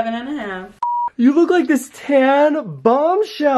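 A mobile phone notification sounds as one short steady electronic tone, loud and clear, cutting into lively nearby talk from several people trying on cheap wigs.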